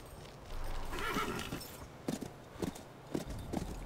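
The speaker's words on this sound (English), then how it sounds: "Strong horse will pull him free." A horse whinnies and snorts in the video game Call of Juarez: Bound in Blood, followed by several short clopping hoof sounds at irregular intervals.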